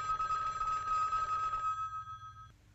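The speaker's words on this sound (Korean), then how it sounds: "호텔 방에 전화가 울리고" Electronic telephone bell rings steadily in a hotel room, a loud continuous trilling that stops abruptly, leaving quiet room tone with no one speaking.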